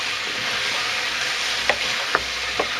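Onions and mushrooms sauté in oil in a pan with a steady, close sizzle, and a few soft utensil clicks sound as they are stirred.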